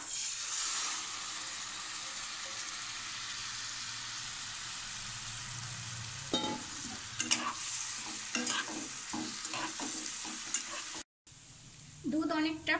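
Apple sizzles softly as it fries in ghee in a kadai, a steady hiss that gives way to a spatula stirring and tapping against the pan, with a brief dropout near the end.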